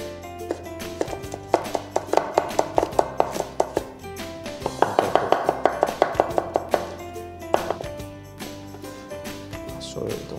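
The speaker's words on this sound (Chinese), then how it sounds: "现在呢，我要先把这些材料啊切丝。" Knife chopping ingredients into thin strips for a roast duck prata wrap (mint leaves, chili, garlic, shallots, roast duck, cucumber, mango), a steady series of quick, close taps on a cutting board with brief pauses and background music.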